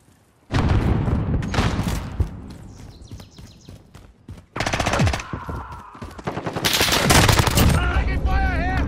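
Heavy automatic gunfire in Call of Duty Modern Warfare Team Deathmatch: long, loud bursts of rapid shots begin after a quiet start, break off briefly, then return in sustained, dense volleys with metallic clatter between them.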